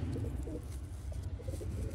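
Sialkoti Ali-wale pigeons cooing close by, a steady low throaty burble throughout with soft rhythmic pulses and no voices.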